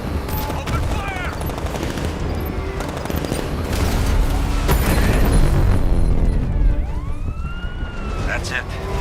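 Dense gunfire from a battle in the video game Batman Arkham Knight, with rapid bursts, sirens and wailing tones layered in a loud, busy mix that runs throughout, while shouted voices speak over it.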